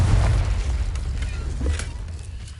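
Confringo blasting spell in Hogwarts Legacy, a deep booming explosion with a rumbling low-end tail that slowly fades over a couple of seconds.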